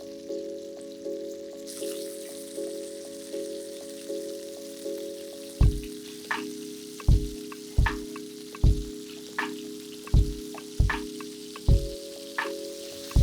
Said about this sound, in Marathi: आता आपल्याला हे दुसऱ्या बाजूनी छानपैकी फ्राय करून घ्यायचं आहे.